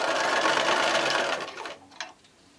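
A sewing machine runs steadily, stitching the seams of a quilt block while a stiletto holds the fabric in place, then slows and stops near the end, followed by a brief click.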